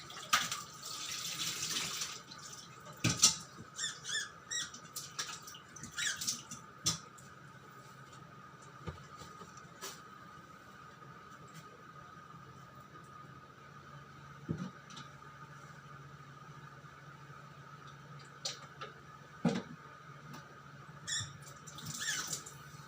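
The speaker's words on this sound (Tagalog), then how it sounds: "Hugas muna tayo ng plato guys." Plates washed at a kitchen sink under a running tap: a steady wash of flowing water with occasional clinks and knocks of dishes, fairly close, with no one speaking.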